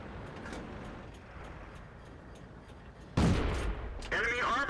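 Tank cannon fire in World of Tanks: a sudden loud blast breaks through quiet engine rumble, followed shortly by a second burst with ringing debris, with faint background game noise before.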